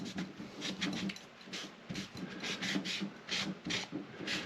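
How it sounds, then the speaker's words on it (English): A paper towel carrying a little wood stain is rubbed across a laser-cut wooden HO scale model saloon, making repeated soft rasping strokes in a steady back-and-forth rhythm, close and fairly quiet with no talking. "I'm taking a paper towel that has a little bit of stain on it as well, that you see right there, and then I'm just kind of rubbing through"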